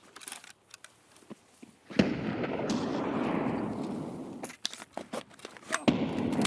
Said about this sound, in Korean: 맞았다 맞았다 수류탄 맞았어